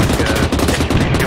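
A loud, dense burst of rapid gunfire pours on a BMP in ARMA 3, the close shots running together into a continuous volley.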